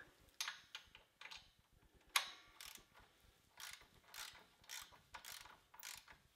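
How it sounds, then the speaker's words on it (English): Torque wrench ratcheting while tightening a bolt on a tractor, a quiet, close series of crisp clicks in short bursts, roughly a dozen strokes spread evenly across the span. "If I wasn't using a torque wrench, I would have went a lot tighter than that."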